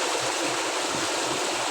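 Deep floodwater rushes steadily along a flooded road during a typhoon, a continuous broadband wash of flowing, splashing water with no talk over it.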